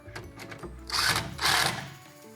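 A ratchet impact driver tightens screws into a closet system rail, giving two loud bursts of whirring, rattling drive, the second longer, with quieter mechanical noise in between.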